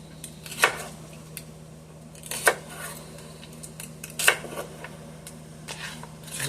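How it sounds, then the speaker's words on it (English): A knife cuts celery stalks in half on a board, four crisp chopping knocks spaced about two seconds apart, close by over a low steady hum. "I'll just take my celery and I'll just cut them in half"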